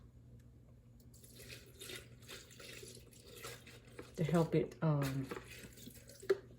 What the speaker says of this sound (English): Now I put a little water in it